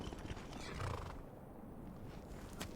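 Horse hooves clip-clop quietly in Skyrim, a soft and steady stream of hoof beats set against faint ambient game noise, with no voices.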